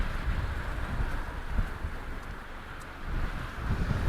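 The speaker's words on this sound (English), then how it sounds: "So, it's windy out here." Steady wind gusting outdoors along the shore of Lake Michigan, a broad rushing roar buffeting the microphone with low rumbling surges throughout, no voices.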